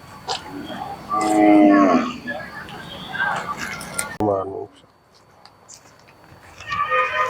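A cow moos loudly nearby amid outdoor noise at the Kannapuram cattle market fair, 2024. Voices talk around it, and a shorter low call follows.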